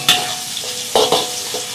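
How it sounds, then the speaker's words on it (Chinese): Scallion, ginger and garlic hit hot oil in a wok and are stirred, producing a loud close sizzle with quick scraping stir strokes over a brief continuous frying hiss. "葱姜蒜爆香"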